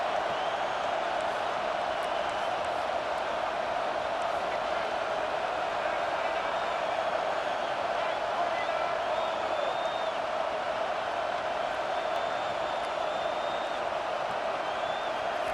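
Stadium crowd noise in the video game EA Sports College Football 25 as a home team drives to the goal line, a steady, broad roar of cheering fans with faint whistles, under play-by-play commentary.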